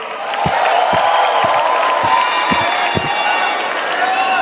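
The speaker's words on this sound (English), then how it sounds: "give yourselves a round of applause" A huge arena crowd of fans at the Miss Universe 2016 national costume event in the Philippines roars with loud, continuous cheering, whoops and applause, a dense wall of noise with sharp claps cutting through.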